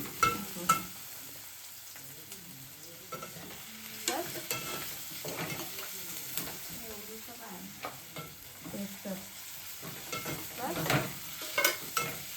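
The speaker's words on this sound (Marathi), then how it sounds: "तर आधी मम्मीने घेतलेला कांदा, तो परतला आणि मग त्याच्यात टाकला कढीपत्ता." Onion and curry leaves sauté in oil in a pan, giving a soft, close sizzle with repeated scraping and clinking of stirring.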